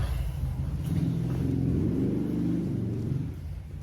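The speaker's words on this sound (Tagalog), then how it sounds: "pinainit ko yung aking motor." A motorcycle engine warming up, idling with a low, steady rumble that stays close and even throughout before easing slightly at the end.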